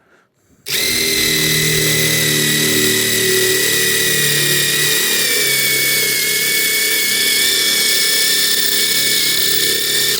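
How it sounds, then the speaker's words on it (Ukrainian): A power drill boring into a steel hammer head, a loud, continuous high-pitched grinding whine with steady motor drone that starts abruptly and runs unbroken to the end. "зараз без всяких перерв починаю свердлити"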